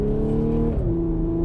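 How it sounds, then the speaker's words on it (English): Engine and stock exhaust of an Audi S5 B8.5 while driving: a loud, steady droning note that shifts downward partway through as it changes gear, heard from inside the car with no talking. "I can hear some exhaust too"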